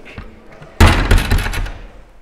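After quiet background noise, a door slams once with a loud, close thud that rings out and fades over the next second.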